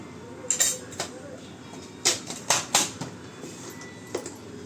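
A spoon stirs chili powder, coriander powder, Everest Kitchen King masala and salt together in a bowl, giving several sharp clinks and scrapes in uneven bursts against a quiet kitchen background.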